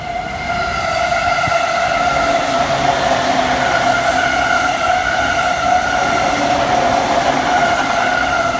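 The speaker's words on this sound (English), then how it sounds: "We will now board the most important train line in Tokyo, arguably the Yamanote line" Green Yamanote line train in Tokyo running between stations, a steady interior rumble with a sustained whining motor tone, loud and continuous, no voices.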